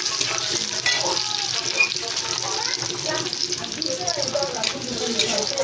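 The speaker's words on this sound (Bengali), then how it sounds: "এরপরে হালকা নড়াচড়া করবেন দেখুন নড়াচড়া হচ্ছে" Sliced onions fry with cumin seeds in a pan for a Bengali drumstick vegetable dish and are stirred gently. A steady close sizzle carries light scraping and stirring noises while a voice talks intermittently over it.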